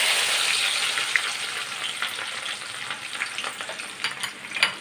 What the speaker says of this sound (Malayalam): അപ്പോൾ നമുക്ക് ഇഞ്ചിയും വെളുത്തുള്ളിയും കൂടെ അങ്ങിട്ട് കൊടുക്കാം